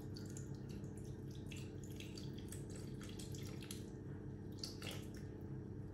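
Cold water being poured, 150 grams, into a Thermomix bowl for express puff pastry, a steady close trickling and splashing stream running throughout with scattered drips and no voices.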